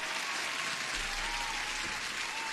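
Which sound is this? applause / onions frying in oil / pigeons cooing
applause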